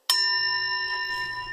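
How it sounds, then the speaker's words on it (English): A single metallic strike rings out, sustaining clear bright tones that decay slowly over about a second and a half. "Ring a gong."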